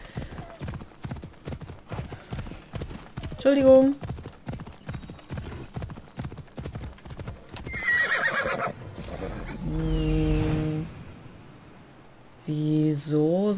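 A horse trots with a steady run of rhythmic clip-clop hoofbeats, then neighs and whinnies loudly several times in the game Assassin's Creed Odyssey, with a brief spoken word early on and game sounds in between.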